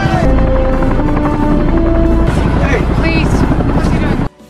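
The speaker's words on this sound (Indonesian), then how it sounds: "mereka pun sangat senang setelah melihat sebuah helikopter datang" A helicopter approaches in a zombie-apocalypse film scene, its loud rotor and engine drone filling the soundtrack steadily before cutting off abruptly near the end.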